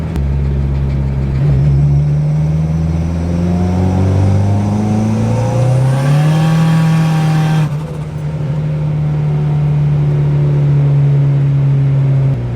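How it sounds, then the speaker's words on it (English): A turbocharged 4G64 engine pulls hard through third gear at wide-open throttle, pitch climbing steadily, then a sharp break as the wastegate opens and the revs drop and settle into a steady drone; loud and close. "you guys can hear when the wastegate opens"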